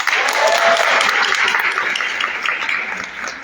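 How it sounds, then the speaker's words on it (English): Indoor audience at a City Hall celebration event gives a dense burst of applause that is loudest at the start and tapers gradually over a few seconds. "Another round of applause."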